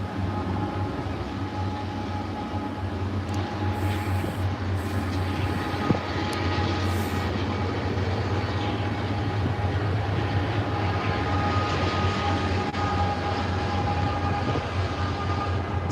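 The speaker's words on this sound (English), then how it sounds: "It's going to be a long train." A long freight train pulled by five engines rolls slowly past in a steady, continuous rumble with a faint rhythmic clatter of cars, one sharp clank partway through, and no voices.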